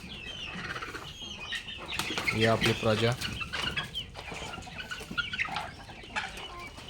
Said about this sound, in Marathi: माझ्याकडे कोंबड्या बहुतेक 22 कोंबड्या आहेत.